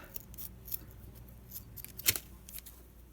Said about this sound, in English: Now I'm going to cut this end off.